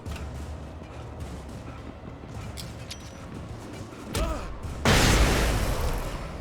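A flashbang goes off in the video game Alan Wake, a sudden loud broadband blast near the end that rings on over low rumbling game ambience and scattered clicks.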